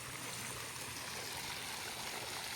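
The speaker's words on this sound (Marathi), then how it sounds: "मंदिराच्याच परिसरात हे असं पाणी आहे" A water fountain in a temple courtyard makes a steady, soft hiss of falling and splashing water, continuous and unbroken, heard from a short distance.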